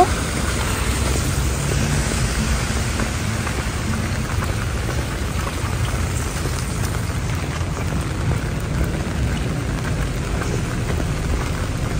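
Continuous rain falls steadily in Montreal, a broad even hiss of drops on surfaces mixed with faint distant traffic, loud and unbroken with no talking.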